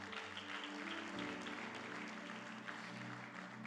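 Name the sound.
congregation applause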